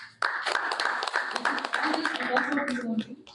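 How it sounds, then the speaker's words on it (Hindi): An audience at the Youth Andaman Awards ceremony claps in a dense burst of applause that runs steadily, then thins toward the end, while a voice speaks over it. "आप लोग अपने लिए एक जोरदार तालियां दें"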